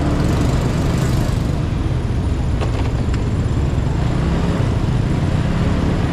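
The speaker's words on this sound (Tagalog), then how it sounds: "Traffic sa madaling na oras." Steady road traffic in San Carlos, Pangasinan at a busy hour, a continuous broad rumble of car engines and passing vehicles, loud and unbroken throughout.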